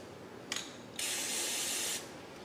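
A short spritz from an aerosol can of lubricant onto a power steering return line clamp, a brief pause, then one longer hissing spray lasting about a second.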